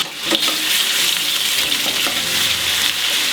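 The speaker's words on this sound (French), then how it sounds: "On laisse colorer la viande." Pork browns in a hot oiled frying pan alongside vegetables for a Provençal dish, a loud continuous sizzle and crackle with occasional stirring scrapes, close and with no talk.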